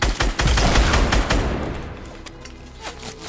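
Rapid gunfire in the Fortnite video game, a dense burst of loud shots for about two seconds that thins into scattered quieter reports, with no talk over it.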